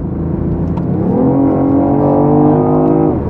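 BMW i8 hybrid sports car engine while driving, a steady loud drone that rises in pitch as it accelerates, with no talk.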